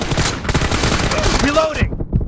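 Dense, continuous automatic gunfire in a team shooter video game, with rapid overlapping shots and game effects filling the whole moment at close, loud level.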